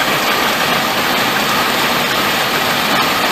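A car or truck engine idles steadily while its vacuum draws down the A/C system, a dense, even, close rumble with a broad hiss and no breaks.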